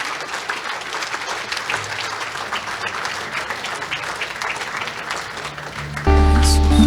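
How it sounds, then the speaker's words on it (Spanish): Strong congregational applause fills a church service after a prayer, dense steady clapping from a crowd that continues throughout, with sustained low organ or keyboard chords entering loudly near the end. "Dele un aplauso fuerte al Señor."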